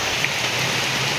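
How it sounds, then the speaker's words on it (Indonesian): Steady rain falling on a small hut on a mountain slope, a dense even hiss of drops close by with no pauses. "Tinggal di gunung saat turun hujan"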